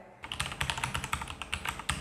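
Fingers type quickly on a Royal Kludge RK-R87 mechanical keyboard, making a close, continuous run of crisp clacking keystrokes with no speech.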